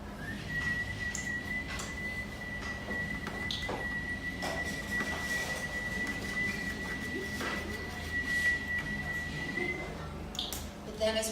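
A person whistles one long, steady high note for about ten seconds to imitate someone urinating in a bathroom, over a noisy room with audience murmur.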